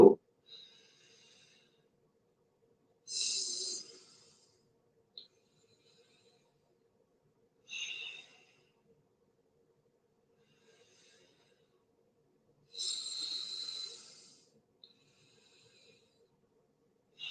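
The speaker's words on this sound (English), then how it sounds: "That is alternate nostril breathing. Anuloma Viloma." Alternate nostril breathing in an Anuloma Viloma yoga exercise: slow, close nasal inhalations and exhalations come as a few separate airy breaths, each about a second long, with quiet pauses between them.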